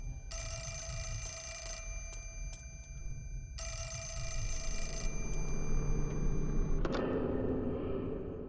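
An in-game phone from Project Zero 4 rings in two long, bright sustained bursts separated by a short pause, fairly loud and close, before the ringing cuts off and a low ambient drone rises.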